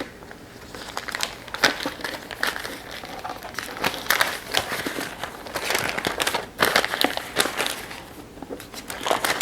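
Cut paper crinkles and rustles in repeated bursts as it is unfolded into a scalloped edge pattern, close and fairly loud, with no voices.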